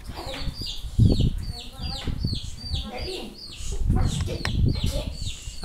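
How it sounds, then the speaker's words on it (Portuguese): A hen and her chicks on a farm cluck and peep in repeated high chirps over low clucking and rustling, with a person talking nearby. "A Roseli tocando os pintinhos, gente, ó."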